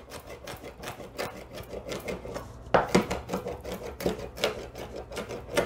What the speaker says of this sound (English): So as you can see, I'm chopping this fairly finely.